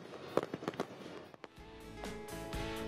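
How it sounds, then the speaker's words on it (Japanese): Fireworks at the 51st Funabashi city festival in Japan, part of roughly 8,500 shells launched into the night sky: a rapid run of sharp crackling bursts, then a deep booming explosion with a rumbling tail. "およそ8500発の花火が打ち上げられました"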